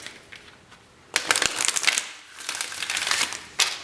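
Crisp riffling bursts of tarot cards being shuffled, two quick rounds with short pauses, close and fairly loud with no talking.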